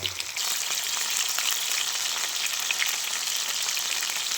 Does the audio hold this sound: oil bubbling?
yes